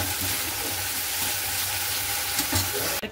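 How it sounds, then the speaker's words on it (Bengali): Ridge gourd sizzles and fries steadily in a pan in a home kitchen, a continuous close crackling hiss with occasional stirring, ending abruptly. "এই ঝিঙে বলছি, এই ঠোঁটটা আর কি ভাজা করছি,"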